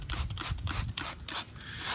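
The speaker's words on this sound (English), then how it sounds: "So we'll give it a spray, see how it takes the iron and all that stuff out." A trigger spray bottle of Adam's wheel cleaner is squeezed repeatedly onto a car wheel, giving a series of close, crisp hissing bursts with small mechanical clicks between them.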